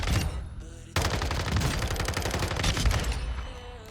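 Automatic gunfire in Call of Duty DMZ, a close, loud, continuous stream of rapid shots that starts after a short lull and runs almost without a break to the end.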